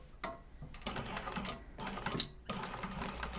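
A sewing machine runs in steady bursts, basting fabric pieces in place for a crossbody bag, its fast mechanical chatter pausing briefly between runs at moderate loudness.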